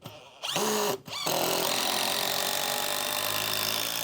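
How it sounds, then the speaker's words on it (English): Power drill driving screws into the wooden frame of a tiny house under construction, a short whirring burst, a brief pause, then a steady sustained drilling whine close by. "So I'm putting 4 screws on each side"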